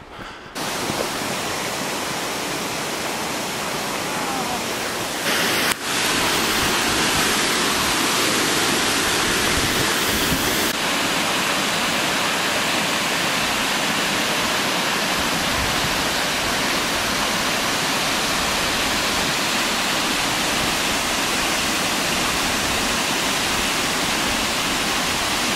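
A waterfall roars in a loud, continuous, broadband rush along a hiking trail. The sound swells slightly as the approach gets closer, and no one speaks.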